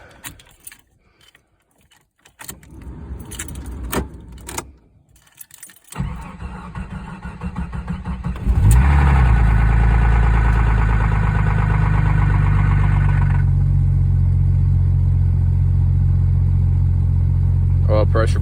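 A 1989 Jeep Cherokee with the 4.0 engine on a cold start: scattered handling noises and a voice, then the engine cranks and catches into a loud, steady idle with a low rhythmic knock running under it.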